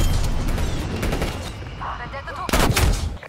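Sentry turret gunfire in the shooter game Black Ops Cold War, a loud sustained rattle of rapid shots followed by a brief heavier burst near the end.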